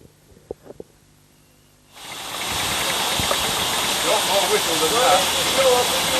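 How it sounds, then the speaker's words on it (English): A 5-inch gauge Manor live steam locomotive at a club pulling trophy event. A few faint knocks come first, then a loud, steady steam hiss rises and continues close by without a break. "The last loco, number 9, is Tom Shevlin's 5-inch gauge Manor."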